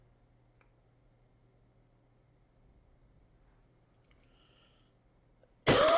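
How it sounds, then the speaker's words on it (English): A single sharp cough bursts out loudly at the very end, after several seconds of near silence with faint background hum. "I'm sorry for coughing."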